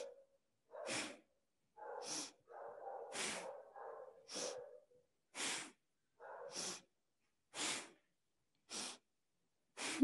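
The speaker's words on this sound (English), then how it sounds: "Inhale, exhale. Inhale, exhale." Deep, forceful breaths during a hormonal yoga warm-up, with about nine close, evenly spaced inhales and exhales, each one a short airy rush separated by silence.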